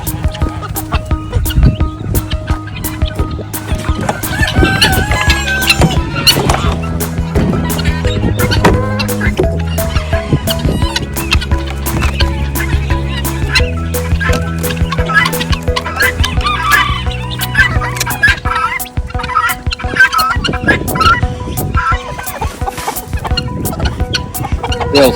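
Chickens coming out of an opened hen house cluck and squawk repeatedly amid a steady background hum, with a person speaking now and then and occasional knocks and rustling nearby.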